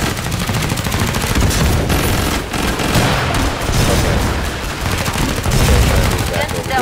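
Constant loud automatic gunfire and rapid shots from an eight-player co-op match of Killing Floor 2 on the Farmhouse map, a dense, unbroken barrage with brief dips, with players' voices under the shooting.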